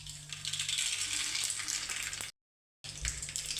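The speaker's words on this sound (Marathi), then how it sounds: "यामध्ये मोहरी टाकून घेऊ।" Mustard seeds crackle and sizzle in hot oil in a pan, a dense, steady frying hiss broken by one short silent gap before the sizzling resumes.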